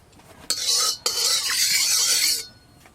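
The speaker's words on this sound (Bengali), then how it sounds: "এবার কুমড়ো পাতার বড়াগুলো ভেজে নেব" Pumpkin leaf fritters drop into hot oil and burst into a loud, close hiss that fades near the end, with a brief clatter of a utensil between the two surges.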